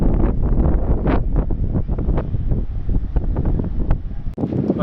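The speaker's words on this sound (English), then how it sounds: "it's far too windy for any sea activity today" Strong gusty wind buffeting the microphone on a seaside promenade by a rough, choppy sea, loud irregular rumbling bursts throughout with no speech.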